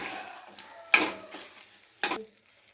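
Coconut and jaggery mixture with ghee and cardamom powder stirred in a pan, two sharp scraping strokes of a spoon against metal over a faint sizzle, close and alone.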